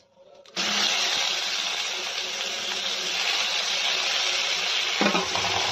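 Chopped onion with a dried red chilli, bay leaf and cumin hitting hot oil in a pan for egg curry, a sudden loud sizzle that holds steady and close with faint stirring.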